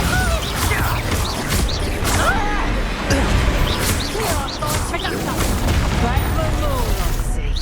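Bombarda spell explosions in the video game Hogwarts Legacy, loud booming blasts and crackling magical impacts rolling over one another without a break, with players shouting excitedly over the chaos.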